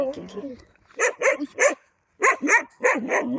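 Dogs waiting to be fed bark in two sharp bursts of three loud, close barks each, separated by a short pause, with a little voice-like sound at the start.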